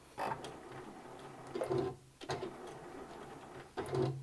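A sewing machine backstitches white thread into white fabric for a hexagon mini quilt, running in three short, quiet mechanical bursts separated by pauses.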